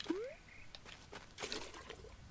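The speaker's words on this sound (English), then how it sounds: "I've just read a thing that tells me that this... is a bucket of water" A bucket of water splashes out in the game A Short Hike, a brief pouring, trickling burst after a couple of rising whistly chimes, fairly soft and with no talk.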